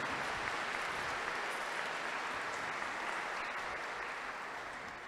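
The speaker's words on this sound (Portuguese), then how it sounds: "Uma salva de palmas para o Padre João Batista." A church congregation applauds a priest celebrating 42 years of priesthood, a continuous, even wash of many hands clapping that sounds moderately distant and fades only slightly toward the end, with no speech over it.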